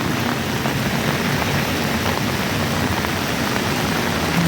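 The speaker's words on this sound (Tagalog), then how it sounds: "malakas ng agos ng tubig" Strong floodwater rushing during a heavy nighttime downpour, a steady, dense roar of water and rain holding evenly loud throughout with no voices.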